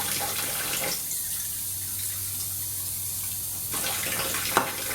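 Water from a Kangen water ionizer runs steadily from the dispensing spout, a continuous faucet-like hiss that holds for several seconds, with a short click near the end.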